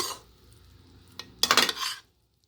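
A spoon scrapes and clinks through mango rice in a pan, a soft scrape early, then a louder burst of close metallic stirring clatter near the end, with no talking.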